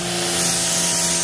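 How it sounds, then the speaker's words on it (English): A pressurized water spray rinses soap off a very dirty car panel during a car-care product test, a loud, steady hiss with a constant mechanical hum beneath it, close and uninterrupted. "We're gonna test the cleaning power when we spray it off, because the panel here is real dirty"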